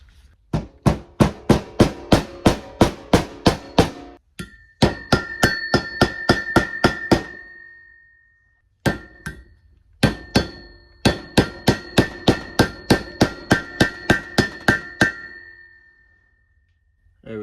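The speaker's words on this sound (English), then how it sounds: "it's easier if I use the metal side to hit the socket" Metal hammer side striking a socket to seat a blue seal on a single-cam Honda engine, rapid series of sharp metallic taps in several bursts with short pauses, the ring shifting higher in later runs.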